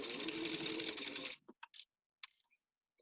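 A sewing machine runs in a fast, close, steady burst as it stitches fabric for a mask, then stops abruptly, followed by a few small clicks and handling sounds.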